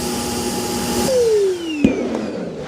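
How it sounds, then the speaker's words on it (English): A Roomba robot vacuum's dock switches on its own suction to empty the robot's dustbin, a loud steady vacuum roar whose whine drops in pitch as it runs, with a brief clunk partway through. "There's another vacuum that kicks on in here and is sucking everything out of the robot."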